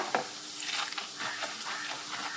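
Spicy Kerala mixture snack crackles and sizzles in hot oil, with soft bursts of bubbling and an occasional stir, close by and moderately quiet.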